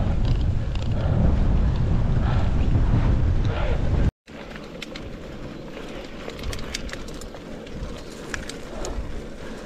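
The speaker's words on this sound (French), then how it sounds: "on est parti avec le vent dans le dos" Steady wind roars across the microphone of a mountain biker on a 40 km trail ride, loud and continuous for several seconds, cutting out briefly, then returning with light rattles and ticks.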